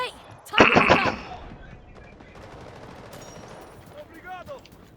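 Pistol gunfire in the video game Delta Force: a quick burst of sharp, loud shots near the start, followed by quieter rattling and clicks with a faint voice in the background.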